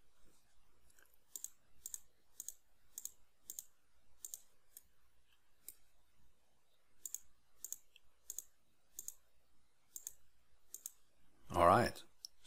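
Computer mouse clicks while working on surfaces in Mastercam CAM software: sharp, quiet clicks in irregular bursts, some paired, with a brief louder rustle or bump near the end.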